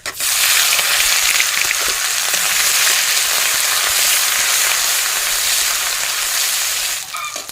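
Cumin and nigella seeds with ground ginger paste and green chili frying in hot oil, a loud, steady sizzle that runs unbroken for several seconds before briefly dipping near the end.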